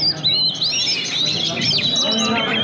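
Kacer magpie-robins at a songbird contest pour out loud, rapid whistled phrases and chirps, several birds overlapping close by over a low murmur of spectators.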